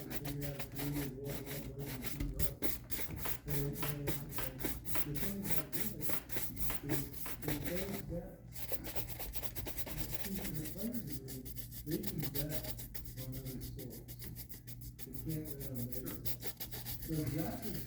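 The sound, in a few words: brushing a shoe to polish a mirror shine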